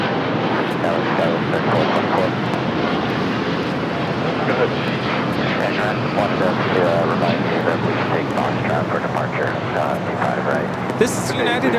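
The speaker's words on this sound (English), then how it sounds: "This is United Airlines 231 taking off to London Heathrow on the 787-9 Dreamliner." United Airlines Boeing 787-9 Dreamliner taking off at LAX, a sustained loud jet roar with rushing turbulence throughout, people talking faintly in the background.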